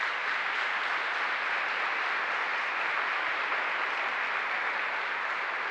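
A church congregation applauds in a steady, dense roar of clapping that holds at an even level throughout, with no voices standing out.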